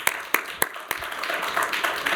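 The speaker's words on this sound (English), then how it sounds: "let's give them a round of applause for the last panel of the morning" A few sharp, separate claps ring out first, then build into a dense wash of audience applause.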